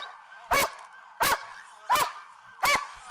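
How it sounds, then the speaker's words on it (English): A police K9 dog barks four times at a steady, evenly spaced pace, each bark sharp and fairly close, with quiet gaps between them. "a dog's trying to eat him"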